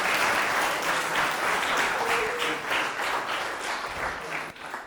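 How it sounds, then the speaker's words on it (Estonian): An audience gives sustained applause for Robin, dense continuous clapping from a crowd that tapers slightly toward the end. "Suur aplaus Robinile,"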